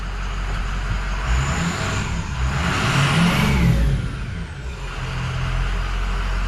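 A diesel truck with a 6.0 Powerstroke engine revs up and back down once, a deep rumbling roar swelling and fading, heard close with no talking.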